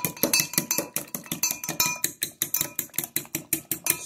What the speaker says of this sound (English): Stirring up them eggs.